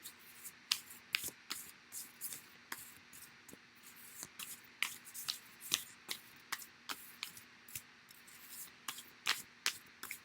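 Tarot cards shuffled by hand, a rapid irregular series of crisp riffling and slapping bursts repeating close by throughout, with no talking.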